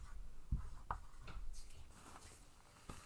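Pen or pencil writing on paper during a math lesson, soft scratchy strokes in short bursts, faint and close, with no talk over them.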